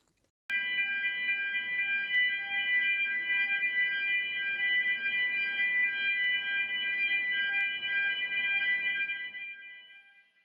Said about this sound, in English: and on pipelay vessels, the abandoned firing line alarm.